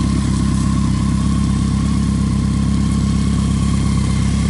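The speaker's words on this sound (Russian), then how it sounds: "Моторчик работает тихо, ровно, без излишних звуков." A BMW K1100 cafe racer motorcycle idles close by, its engine running steady, smooth and even with a constant low throb and no talking over it.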